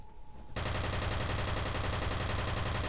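Gunfire in the video game F.E.A.R. bursts in after a brief quiet moment as rapid, sustained automatic shooting, a dense rattling stream of shots that continues loudly to the end.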